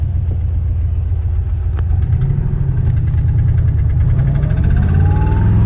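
A Porsche engine idles steadily at close range, a continuous low, throbbing rumble with a faint rising whine near the end and no talking.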